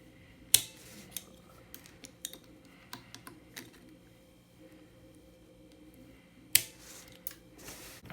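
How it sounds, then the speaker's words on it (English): Scissors snipping plastic nail tips to length on a practice hand, giving a few sharp crisp clicks and small cutting sounds spread across a quiet background, no talking. "So now we want to cut them to the desired length and then the desired shape"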